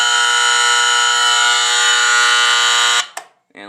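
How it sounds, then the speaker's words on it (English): A loud, harsh electromechanical horn inside a Pyrotronics System 3 fire alarm panel blares continuously at close range for about three seconds, then cuts off, followed by a couple of clicks. "This panel has probably the loudest internal buzzer I've ever heard. It's actually an electromechanical horn."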